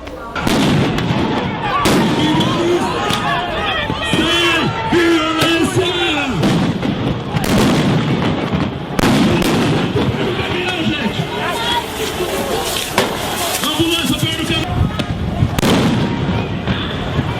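Riot police battalion firing shots at protesters outside a legislative assembly: repeated sharp gunfire bursts, some close and loud, ring out over constant crowd shouting and babble.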